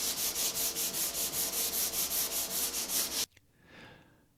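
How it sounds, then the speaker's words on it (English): Rhythmic back-and-forth hand sanding of a polyurethane finish on wood rasps steadily in quick even strokes, then stops abruptly, leaving a faint soft swish. "I'm kind of wiping away the kind of residual polyurethane as it comes in"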